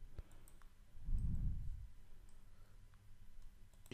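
A computer mouse or keyboard is used in a quiet room, giving a few isolated, soft clicks and a faint low thump, all at low volume.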